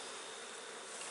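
A dense, steady buzzing of many honeybees close by at a hive, a continuous hum with no pauses and no voices.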